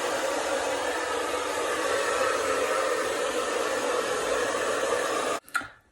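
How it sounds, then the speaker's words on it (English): An electric fan runs with a steady, loud whooshing hiss that holds unchanged for over five seconds and then cuts off abruptly, followed by a brief bump. "I have a fan on"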